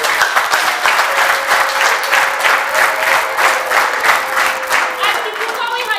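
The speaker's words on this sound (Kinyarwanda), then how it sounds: "bayikomeye amashyi y'Imana" A church congregation breaks into loud, sustained applause, dense rhythmic clapping close by with some voices rising through the crowd noise.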